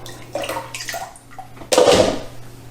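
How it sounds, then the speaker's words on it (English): Blanched peas lifted out of an ice water bath to drain, with close splashing and trickling water, a quieter stretch, then a louder rush of pouring water near the end over a faint steady hum. "Now I'm just taking them out of their ice water bath, and I will let them drain"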